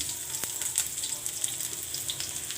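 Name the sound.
onion frying in hot oil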